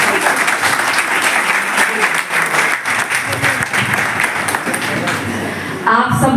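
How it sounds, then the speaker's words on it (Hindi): A crowd at a political campaign gathering in Patel Nagar claps loudly for two women organisers, a thick continuous applause with a few louder claps standing out, fading briefly just before the end as a voice begins. "जोरदार ताली।"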